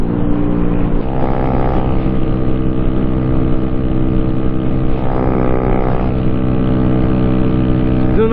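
A motorcycle at highway speed of about 60 mph drones loudly and continuously, engine tone rising slightly at moments over steady wind rush.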